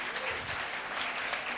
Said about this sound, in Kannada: ಮತ್ತೊಂದು ಆವರ್ತಿ ನಮ್ಮ ಪ್ರೈಮರಿ ಮಕ್ಕಳೆಲ್ಲರಿಗೂ ಚಪ್ಪಾಳೆ ತಟ್ಟೋಣ